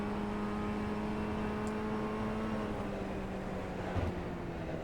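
Formula 1600 race car at Oran Park Raceway on a qualifying lap, its engine droning steadily and loudly throughout with a sustained tonal whine that dips slightly near the end, no talk.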